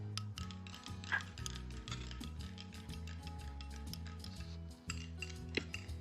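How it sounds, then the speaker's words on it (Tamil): A spoon mixes chia pudding in a bowl, giving repeated light clinks and taps at a fairly quick, uneven pace over a steady tonal hum. "இப்போ நல்லா வந்து மிக்ஸ் பண்ணி"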